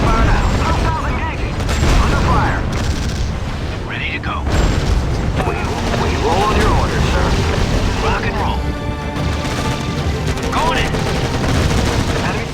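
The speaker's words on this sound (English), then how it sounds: "Opening fire now." Battle sounds from the video game Act of War: High Treason, with dense, loud bursts of gunfire and booming explosions that run continuously, while soldiers' voices call out over the combat.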